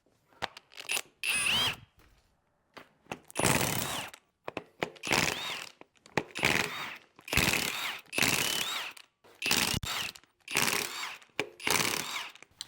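An engine's cylinder head bolts are loosened in repeated bursts of a power tool, roughly ten short whirring runs separated by pauses, close and fairly loud.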